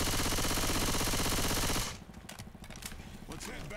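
Gunfire in a multiplayer video game roars as a loud, dense stream of automatic shots, then drops to scattered, quieter bursts mixed with voices talking.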